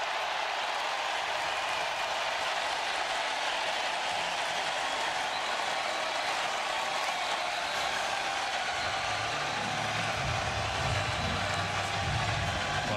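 A large football stadium crowd at a Texas A&M versus Missouri college game roars in a steady, distant wash of cheering and noise, with a low rumble swelling near the end.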